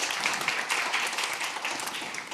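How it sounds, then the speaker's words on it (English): Applause after a presentation at an XR conference, an even, continuous wash of clapping at moderate level with no talk over it. "Can we get another applause for this for Tommi?"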